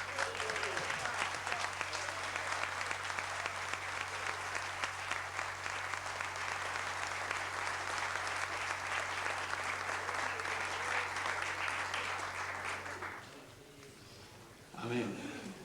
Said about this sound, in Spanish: Demos un aplauso al Señor porque somos varones.